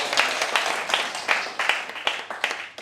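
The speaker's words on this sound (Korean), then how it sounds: "네, 우리 감사의 박수 한번." Applause rises from a church congregation during a worship service, with sharp claps forming a loose, fairly close rhythm that rises and falls over a few seconds.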